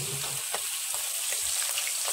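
Prawns frying in a pan for malai curry at a roadside hotel kitchen, a steady close sizzle with faint scraping stirs throughout, no voices.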